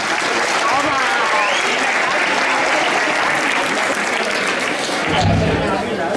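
A school crowd at a Sant Antoni event applauds prize winners, steady dense clapping filling the space for several seconds, with a low thump near the end.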